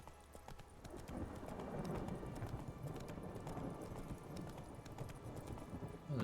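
Hooves of Roach, the horse in The Witcher 3, clip-clop in a steady galloping rhythm across open ground, close and continuous, with faint game ambience underneath.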